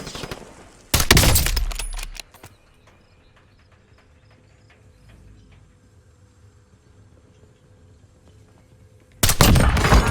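Gunfire from the video game Call of Duty Warzone: two loud bursts of rapid shots, one near the start and one at the end, separated by a long stretch of quiet background.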